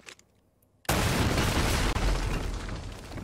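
In Uncharted: Drake's Fortune, TNT barrels burst after gunfire, a sudden heavy blast that roars on as a loud, sustained rumble after a near-silent start.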